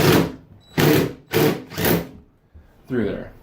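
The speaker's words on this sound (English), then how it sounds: "drill that screw" A power drill drives a screw through a tub spout in several short, loud whirring bursts separated by brief pauses, close up.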